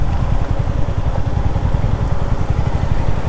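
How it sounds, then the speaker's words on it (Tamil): Army trucks drive past on a hill road with a steady close diesel engine rumble and a throbbing, chugging pulse, loud and without talk. "ஆர்மி ட்ரக்லாம் வருது."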